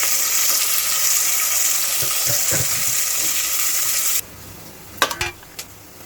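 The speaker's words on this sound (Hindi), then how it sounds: "देखो अपना ये ऑयल हीट हो गया है। अब हम इसमें ऑनियन ऐड करेंगे।" Onions hitting hot oil in a pan, a loud continuous sizzle that holds for several seconds and then cuts off abruptly, followed by a few sharp clinks and scrapes of a utensil against the pan.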